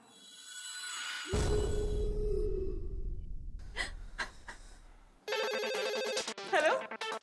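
A telephone rings in a bright electronic burst near the end, after a sharp gasp, heavy breathing and a low rumble, during a scene in the Indian sitcom Taarak Mehta Ka Ooltah Chashmah.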